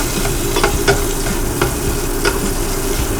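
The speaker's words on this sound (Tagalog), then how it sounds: "So, ito yung gamit ko, yung parang tongs." Bulalo is stirred in a pot with tongs over a steady loud sizzle, with several light, rhythmic clicks and scrapes of the tongs against the metal.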